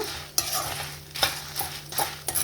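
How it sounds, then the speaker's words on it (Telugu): Dal and dried red chillies frying in a pan, with a soft continuous sizzle broken by several sharp scraping strokes of a spoon against the pan, close and fairly quiet. "ఇప్పుడు ఇంకా కొంచెం అవి వేగాలి కాబట్టి పప్పులు, ఈలోపు ఎండుమిర్చి కూడా వేగిపోతాయి."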